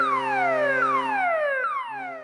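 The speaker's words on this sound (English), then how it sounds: "The abandon rig alarm," The abandon rig alarm aboard the ICEMAX offshore drilling vessel: a loud electronic tone sweeping downward in repeated falling glides, each about a second long, sounding alone without talk.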